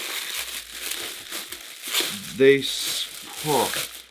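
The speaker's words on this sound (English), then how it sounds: "This comes wrapped in bubble wrap and then in this plastic bag" Bubble wrap and a plastic bag crinkling and crackling as football boot packaging is handled, irregular rustles with a few louder crinkly bursts near the end.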